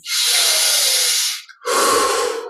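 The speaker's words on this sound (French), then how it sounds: "Et on prend encore un peu plus d'air pour les 10 dernières respirations." Two long, loud breaths taken during a guided yoga energization meditation, a sustained airy inhale followed by a brief pause and a second deep breath, close and alone with no talking.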